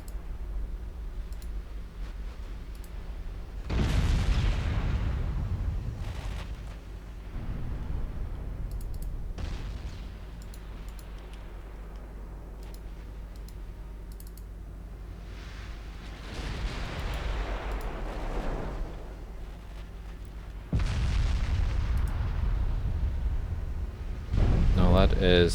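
Warship guns firing at an enemy heavy cruiser in the naval game Ultimate Admiral Dreadnoughts produce several deep booming salvos spaced seconds apart, with a low rumble between shots and someone talking over the action.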